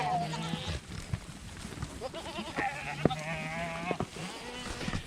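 Several Boer goats bleat in wavering, quavering calls, some overlapping, close by on a farm, with footsteps and rustling moving around them.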